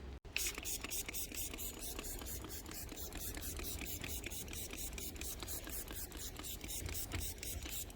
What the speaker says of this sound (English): grab my spritz and give them a nice spray